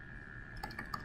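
A few soft computer keyboard keystrokes tap quietly over a low room hum, three or four light clicks bunched in the last half-second.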